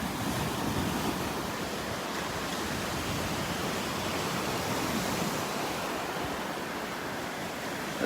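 Ocean waves washing onto the beach at Naples Pier with the tide coming in, a loud, continuous broadband surf roar close at hand with some wind noise and no voices.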